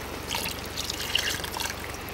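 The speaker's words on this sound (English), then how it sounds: "Just adding some water to cover the potatoes." Water is poured into a pot of potatoes at a bush camp cooking a curry, a steady close splashing and trickling pour that runs for about two seconds with no talk.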